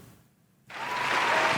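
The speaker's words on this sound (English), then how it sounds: "Let me hit the applause button" Canned applause sound effect fired on a podcast: after a brief quiet gap, a burst of dense clapping and cheering starts abruptly and holds at full level to the end.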